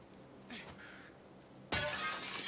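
A thrown object smashes glass in The Last of Us Part 2: after a faint scrape, one loud bright shatter bursts in and its crackling fragments keep ringing briefly.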